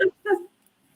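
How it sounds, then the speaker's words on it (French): A dog gives two short whimpering yips with a brief pause between them, close and fairly clear, followed by near silence. "je pense que c'est le chien"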